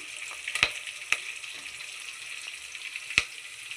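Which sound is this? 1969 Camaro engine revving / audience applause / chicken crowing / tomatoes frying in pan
tomatoes frying in pan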